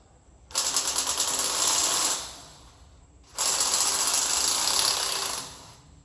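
A wrench loosens the bolts on a tripod deer stand in two long bursts of rapid ratcheting clicks, each lasting about two seconds, close and loud with a brief pause between them.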